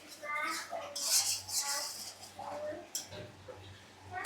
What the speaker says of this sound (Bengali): এখন সুন্দর করে মশলাটা কষিয়ে নেব